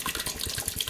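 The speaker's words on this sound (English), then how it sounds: "I'm going to take a couple of cups of water and I'm going to pour this water into the bottom." A couple of cups of water poured into the bottom of an Instant Pot pressure cooker's inner pot, a steady splashing gush that runs for about a second with no talk.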